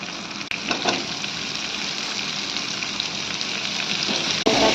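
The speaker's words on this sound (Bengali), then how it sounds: "কেটে রাখা টমেটোগুলো ঢেলে দেব।" Chopped tomatoes poured into a pan of frying onions, a sudden burst of loud sizzling that settles into a steady crackling hiss, with brief clatter near the start and end.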